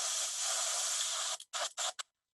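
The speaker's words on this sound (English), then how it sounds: "So spraying out that white, I'm going to spray my needle juice in there." An airbrush sprays out white paint in a steady hiss, then fires three short bursts of needle cleaner before cutting to silence.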